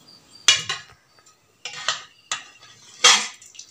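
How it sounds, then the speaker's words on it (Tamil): Cooked dal and tomato are mashed in a stone pot in a village kitchen, four separate bursts of gritty scraping and knocking close by, with brief pauses between. "நான் இப்போ இந்த கல் செட்டில் தாங்க பருப்பு மூலம் கடைய போகிறோம்"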